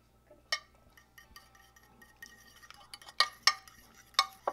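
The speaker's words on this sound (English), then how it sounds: "Now I'm going to swap my spoons for a fork and stir this up." Fork stirring a venison burger mixture in a bowl, faint soft scraping with a few sharp clinks of metal against the bowl, quiet and close.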